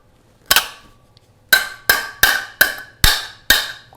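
Hammer blows flattening the nail-in tabs of a metal electrical box: one sharp strike, a pause, then six evenly spaced ringing metallic hits, close and loud with no talking.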